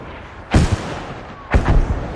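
Two heavy artillery blasts land about a second apart in the Battlefield Firestorm battle royale, each a deep, loud boom with a rumbling tail, and no voices over them.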